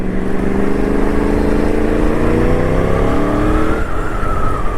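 A 1000cc Yamaha R1 motorcycle engine revs hard under throttle, a loud, close, rising howl with climbing harmonic tones that peaks and then drops back, with no talk.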